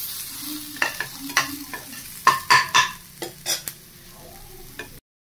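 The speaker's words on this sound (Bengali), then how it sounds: "তেলের মধ্যে একটু ওই পেঁয়াজ, ক্যাপসিকাম, বিন আর গাজর আর সর্ষে তেলে ফোড়ন দিয়ে একটু নাড়াচাড়া করে নিচ্ছি।" Onion, capsicum, beans and carrot are stir-fried in mustard oil, with a spatula scraping and knocking the pan in irregular strokes over a low, steady sizzle. Close and clear, with no talking.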